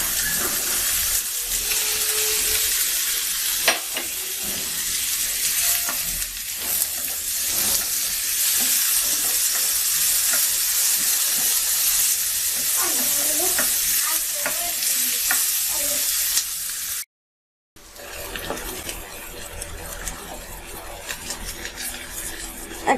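Shrimp sizzling loudly in a pan with taro leaves, a dense continuous hiss and crackle with occasional stirring, close up and without speech, cut off by a brief silent gap near the end before the frying resumes.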